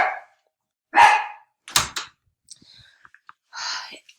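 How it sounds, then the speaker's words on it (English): A dog barks indoors in loud, separate bursts, close by, with short gaps between them and some fainter clicks and knocks. No one speaks. "Hopefully you can hear over his barking."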